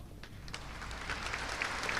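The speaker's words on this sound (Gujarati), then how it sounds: "આવી રીતે વચમાં બી તાળીઓ પડીને વધારતા રહેજો" An audience at a Gujarati dayro, a folk storytelling and music gathering, claps briefly. The applause is faint and distant, a soft patter of many hands lasting a couple of seconds.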